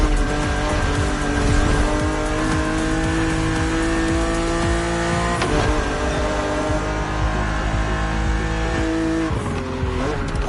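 BMW Z roadster, a two-seater, racing in The Crew Motorfest with a loud, steady engine drone and shifting revs that carry throughout, briefly broken by a tire squeal or skid around the middle and again near the end.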